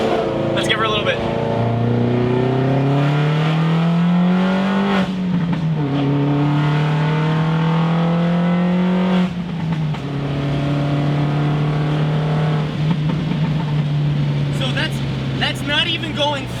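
Car engine in second gear with traction control off, revving hard as it accelerates, pitch climbing, easing, then climbing again in sustained loud pulls; a voice talks over it.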